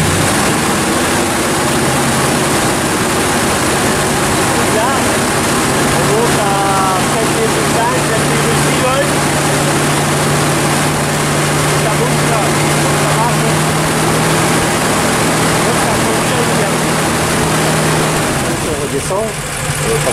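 Old car engine with a 6-volt electrical system, dynamo and electronic regulator, revved up from idle; a steady mid-pitched engine drone with a rising tone, running loud throughout as people talk over it.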